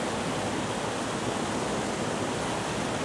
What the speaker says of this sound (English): A lot of smooth, slow water.